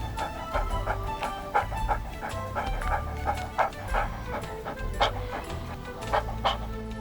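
A dog yips and barks in short bursts over a low steady hum, with fowl-like clucking mixed in.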